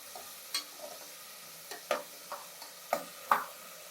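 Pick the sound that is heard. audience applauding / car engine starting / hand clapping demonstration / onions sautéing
onions sautéing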